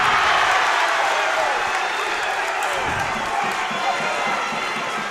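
Crowd in a high school gym cheering and applauding a dunk during a Spartans boys basketball game against Monson, a loud, dense roar that swells and stays steady, with no voices distinct.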